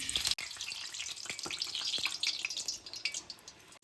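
Pressed dough pieces fry in hot oil with a faint, continuous bubbling sizzle and soft crackles, quiet and fairly close, with no talking.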